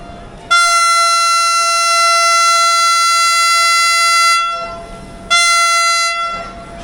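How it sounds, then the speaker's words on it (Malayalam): The 20662 Dharwad–KSR Bengaluru Vande Bharat Express sounds a loud, sustained horn blast lasting about four seconds, then a second shorter blast after a brief pause, close and unaccompanied by talk. "KSR ബാംഗ്ലൂരിലേക്ക് 20662 വന്ദേ ഭാരത് എക്സ്പ്രസ് പുറപ്പെട്ടു"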